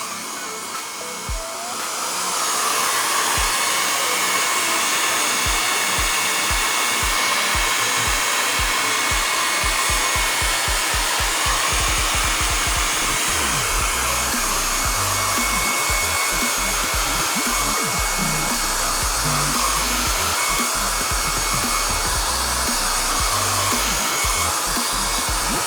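A hair dryer blows steadily over wet watercolor paint on a landscape painting, starting up after a brief quiet moment and then running loud and continuous with a constant airy roar.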